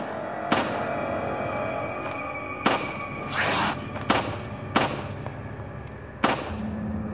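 Gunshots in the Android version of Resident Evil 4, with about five sharp single shots spaced a second or so apart over steady game ambience and a whooshing sound between them.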